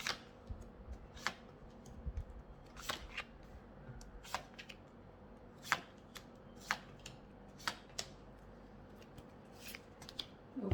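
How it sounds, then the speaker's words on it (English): Soft, sporadic riffling and snapping of cards, quiet and close, with irregular crisp bursts spread over several seconds. "One last shuffle"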